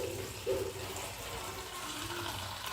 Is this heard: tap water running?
yes